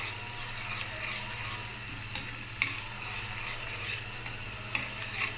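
Garlic sizzling and frying steadily in a pan for Alexandrian-style liver, a continuous close crackle with a low hum beneath and a couple of faint clicks, no voices.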